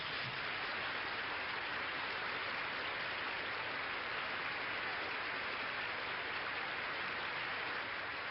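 Long, sustained applause for Richard Nixon at the White House in August 1974: a dense, steady wash of clapping from a large crowd that holds an even level throughout, with no voices standing out.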